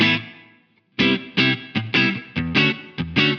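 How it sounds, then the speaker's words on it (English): Electric guitar through Two Notes Genome software with reverb: a decaying chord rings out, then a string of distorted, rhythmic chord stabs follows, each leaving a short wash of ambience. "It's a lovely reverb."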